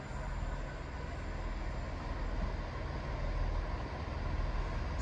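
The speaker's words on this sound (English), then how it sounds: "Now there's a down service coming through now." A down passenger train passes near Wendover on a country walk, a steady loud rumble of wheels and engine filling the full five seconds with no talk over it.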